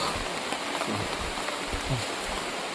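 Heavy rain pours down in a steady, dense hiss, continuous and loud with no pauses and no voices.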